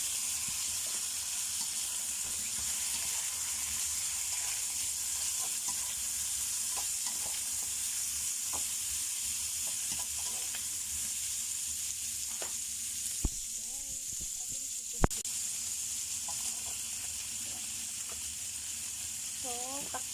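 Chicken feet for adobo fry in a pan with a steady, loud, hissing sizzle, while a few faint clicks and a couple of sharp knocks stand out near the end, and no one speaks.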